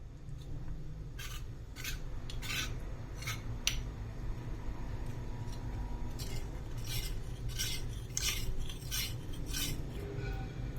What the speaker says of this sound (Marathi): त्यामध्ये मी हे थंड दूध आता मिक्स करून घेत आहे